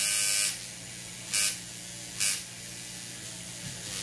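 Coil tattoo machine fitted with a cartridge system buzzing steadily up close, broken by three short bright hissing bursts.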